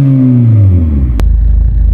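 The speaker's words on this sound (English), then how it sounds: "The exhaust is a Scorpion 3-inch system with a Military decal." A Vauxhall Astra VXR, stage 2 at about 320 bhp, with a Scorpion 3-inch exhaust bearing a Military decal, revving: a loud, close engine note that falls away, then a short crack and a low burbling idle.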